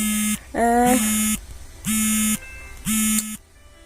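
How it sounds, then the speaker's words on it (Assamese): An alarm goes off indoors with loud, close electronic tones in repeated pulses of about half a second to a second, separated by short gaps, with a brief warbling rise in the first pulse. "মানে এলাৰ্ম বাজি গৈছিল"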